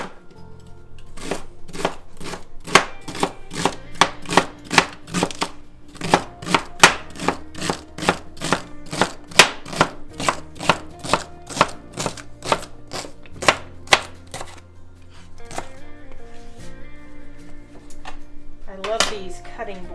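A knife chops vegetables on a flexible cutting board for chicken tortellini soup, making a steady run of sharp, close knocks in an even rhythm, followed by a few scraping, sliding board sounds at the end.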